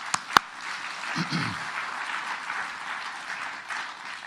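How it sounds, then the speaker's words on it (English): An audience in the Platte Valley applauds at a public event, a soft, diffuse patter heard from a distance after two sharp knocks at the start, with a brief low voice mixed in. "Please give him a round of applause."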